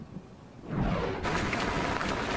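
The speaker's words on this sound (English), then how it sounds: "record rainfall turning roads into rivers" Heavy rain pours during record flash flooding in Chicago, with roads turned into rivers. A dense, steady rush of water is faint at first, then builds to a loud, continuous roar that holds to the end. No one speaks.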